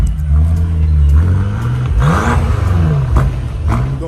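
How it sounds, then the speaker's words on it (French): A BMW M8 Competition's 625-horsepower V8 with quad exhaust revs hard nearby, rising and falling through several loud blips over a deep idling rumble, with no voices. "Vous entendez ce son? C'est grâce à notre V8 que nous avons là."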